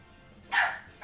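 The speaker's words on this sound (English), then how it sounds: "Quit your barking!" A small dog named Butterbane gives a single sharp, high bark up close indoors, with a second bark just starting as the sound ends.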